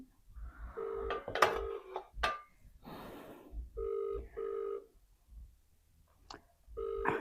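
A telephone rings repeatedly with an electronic double-tone ring in regular bursts, going unanswered, with a few clicks and handling noises between rings.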